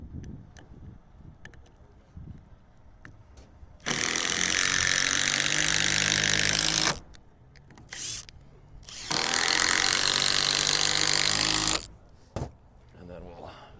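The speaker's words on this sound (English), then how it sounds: "Get a couple screws in." A power drill driving screws into wooden blocks for soffit and fascia work on a large house, two loud sustained whirring bursts of about three seconds each, with quieter handling clatter between them.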